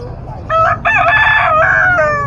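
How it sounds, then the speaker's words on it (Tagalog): A rooster crows loudly nearby at a Saturday pet market in San Carlos City, Pangasinan, one long drawn-out call over a low background hum. "Yan po, manok."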